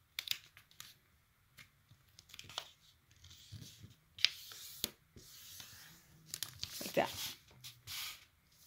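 Paper is folded and creased to make a paper popper, giving soft close rustles and sharp crisp crinkles in irregular bursts, with a person talking between them.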